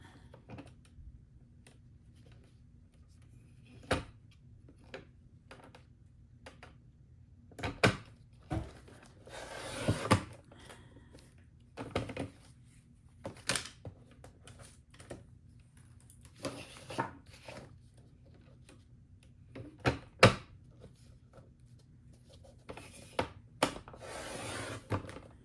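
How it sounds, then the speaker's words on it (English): A paper cutter trims paper for framing in an art studio, giving scattered sharp clicks and a few longer scraping swishes against quiet room tone, with no talking. "I'm going to take my paper cutter"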